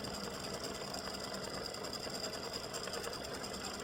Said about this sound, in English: it's doing the satin stitching around the outside of the bunny peep